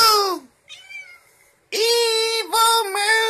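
A cat gives loud, close, drawn-out meows, one long call, a fainter one, then a sustained wavering yowl, with no talking.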